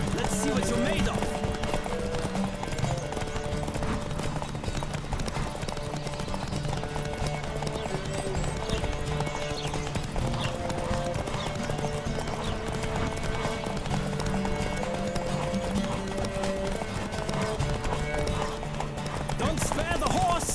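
Galloping horse hooves pound in a rapid, continuous clip-clop during a horse race in The Witcher 3, layered under game music and loud speech throughout.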